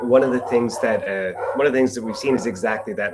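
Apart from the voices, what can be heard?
dogs barking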